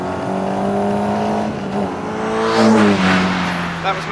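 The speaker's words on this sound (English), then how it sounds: "That was Matt's braking" A Caterham race car brakes hard on a track during a time trial, its engine note dropping through steady tones before a brief squeal and a rising rev, loud and close with little else around.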